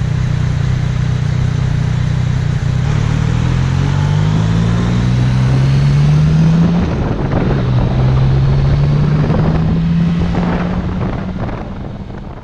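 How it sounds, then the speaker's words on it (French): A 2018 Yamaha MT-09 Tracer GT motorcycle's engine and exhaust drone steadily, rising and falling in pitch as it accelerates, heavily buried under constant loud wind buffeting on the microphone. "le bruit du moteur et l'échappement"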